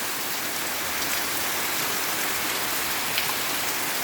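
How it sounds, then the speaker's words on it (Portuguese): Steady heavy rain pours down in the Brazilian sertão backcountry, a dense, continuous hiss of drops on surfaces that stays loud and even throughout, with no voices. "mas não uma chuvinha como essa com mais intensidade"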